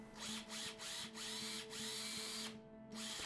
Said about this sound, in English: I had to remark and re-drill a set of holes